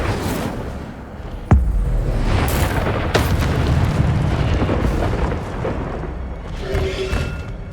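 Incendio fire spell cast in the video game Hogwarts Legacy, a sharp booming burst followed by a sustained fiery rumble, with further thuds and whooshes of combat effects layered loudly over a dense game soundscape.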